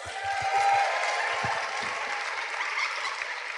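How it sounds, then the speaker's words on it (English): A comic convention panel audience claps steadily in a dense wash of applause that holds throughout, with faint voices underneath. "Can you just give yourself a round of applause?"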